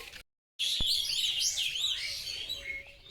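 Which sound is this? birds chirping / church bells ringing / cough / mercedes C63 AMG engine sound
birds chirping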